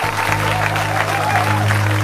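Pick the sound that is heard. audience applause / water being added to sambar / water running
audience applause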